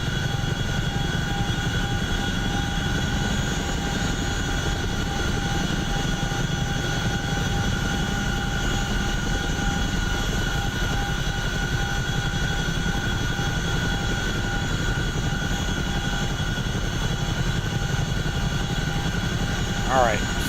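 An Apache helicopter in the DCS World flight game holds a steady, continuous rotor and turbine drone throughout, with a pilot's voice talking over it.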